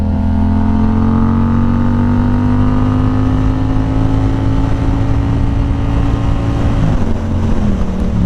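Yamaha R7 motorcycle cruising on a road, its engine a steady, loud, close drone whose pitch creeps upward before dropping suddenly near the end as if shifting gear.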